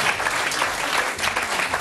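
A studio audience at a French comedy show applauds, a thick continuous clapping from a crowd that holds at a loud, even level from start to finish.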